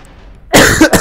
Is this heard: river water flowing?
no